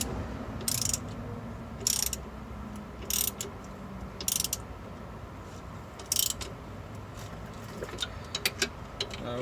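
Tightening the lower bolt on a front strut assembly with a ratchet, giving repeated bursts of clicking at an uneven pace over steady low background noise, close and moderately loud.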